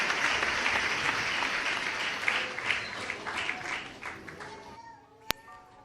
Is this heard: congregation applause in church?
yes